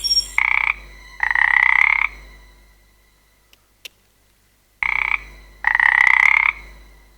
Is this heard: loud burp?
no